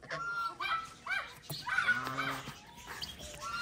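Several chickens squawking and honking in loud, uneven bursts, close by, with brief pauses between calls.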